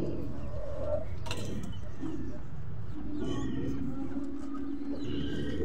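Soft pigeon cooing rises and falls in low, throaty phrases against steady background noise, with a brief rustle partway through.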